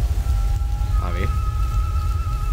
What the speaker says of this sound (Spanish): Pues recién me voy a notar que estaba lloviendo